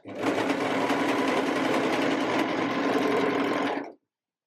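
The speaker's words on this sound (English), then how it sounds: "trim that elastic off at the end and sew the rest of the way along" Sewing machine stitching elastic along the seam of a crop top, a steady fast motor whirr and needle clatter running close and even for about four seconds, then stopping abruptly.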